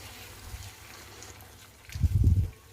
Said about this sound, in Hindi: मैं यहाँ पे थोड़ा ही पानी इसमें ऐड कर रही हूँ।